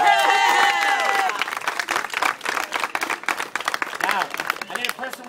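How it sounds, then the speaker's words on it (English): An audience applauds a woman at a live event, with clapping and some cheering mixed with crowd chatter and a voice, starting dense and then thinning into scattered claps under ongoing talk. "give her a round of applause"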